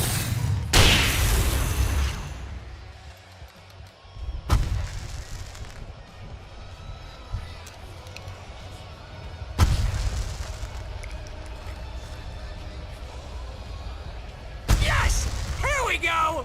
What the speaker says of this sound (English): I can set off more of the fireworks from here and help them out!